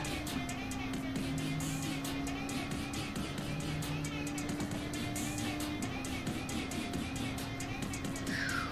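A Honda NSX race car in Gran Turismo 7 drones with a steady engine tone amid other cars in a charity race, a continuous mid-level hum with subtle pitch shifts.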